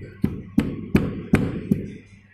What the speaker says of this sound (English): Now we are ramming after once we fill the sand to the cup. You can see we are using a round rammer here